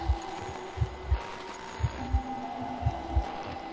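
A heartbeat in the horror video game Infliction thumps in steady paired beats, deep and prominent over a low background hum, with no voices.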